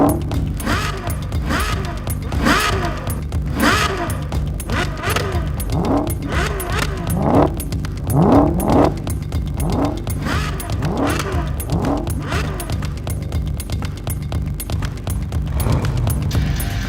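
A front-engine, rear-drive production car with a 9,000 rpm, 6.5-litre, 789-horsepower V12 accelerates hard. Loud, close engine notes climb repeatedly through the gears, with brief drops at each shift.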